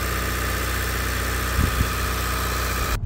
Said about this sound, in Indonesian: ini kita lakukan test drive pada Stargazer pertama di dunia yang dipasang double black core